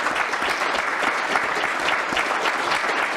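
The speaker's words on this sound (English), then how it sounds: "Let's give a round of applause to Todd." A crowd claps steadily and densely throughout, a full round of applause with no voices standing out.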